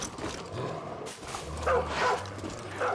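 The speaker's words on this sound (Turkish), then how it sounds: "Arkadan da kurtların sesi geliyor." Wolves and a dog in the Far Cry New Dawn video game, heard as a few short yips and barks over a dense game ambience, moderately loud and spaced across the moment.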